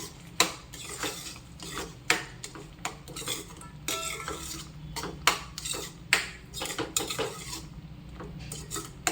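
A spoon stirs thick paneer butter masala with kasuri methi in a metal pan, making repeated close scraping and clinking strokes in an irregular rhythm over a low kitchen hum, with no talking.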